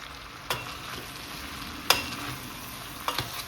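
Carrots gently frying in a pan while being stirred, a quiet sizzle broken by three sharp scraping clacks of the spoon against the pan, close up with no voices.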